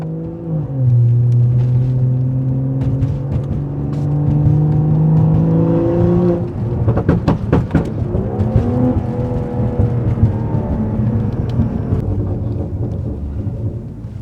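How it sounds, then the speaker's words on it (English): A BMW engine rumbles and revs loudly nearby, its exhaust giving off a deep, crackling burble as the pitch rises and falls. "So when it starts burbling now, I'm sure that it echoes outside pretty loud."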